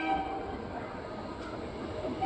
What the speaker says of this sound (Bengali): দেখো ট্রেন আসছে